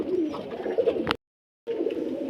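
Pigeons set down on the ground coo softly and repeatedly at close range, with a short silent break midway and no talking.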